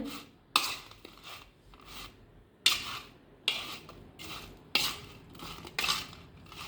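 A spoon scrapes and clatters against a bowl in repeated sharp strokes while mixing pickle ingredients with salt, with quiet gaps between the stirs and no talking.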